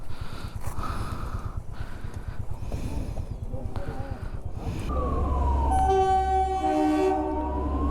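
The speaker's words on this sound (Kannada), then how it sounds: "ಸೊ ನೋಡಿ, ಹೋಗ್ತಾ ಇದೆ ಟ್ರೈನ್. ಇದು ಟಾಯ್ ಟ್ರೈನ್ ಇದು." A small Shimla toy train pulls away with a steady, loud rumble of wheels on rails, then a long multi-tone horn blares from about midway and carries to the end.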